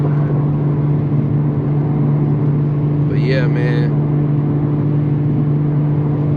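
An Infiniti G35 coupe heard from inside the cabin, with a loud, steady low engine and exhaust drone throughout. Someone talks briefly over it.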